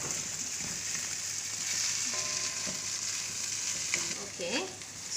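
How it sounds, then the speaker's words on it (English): Potatoes sizzle and fry in a pan over a high flame while being stirred, a steady hiss with occasional scraping clinks of the spatula close by. "I have been constantly stirring the potatoes on high flame"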